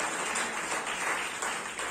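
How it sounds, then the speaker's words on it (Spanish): A church congregation applauds for the Lord, a steady, dense wash of many hands clapping together for the full two seconds with no voices over it. "Denle un aplauso al Señor, hermano."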